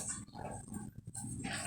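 A dog vocalizes close by in a short burst of yelps and whimpering barks, with other animal-like noises mixed in and no speech.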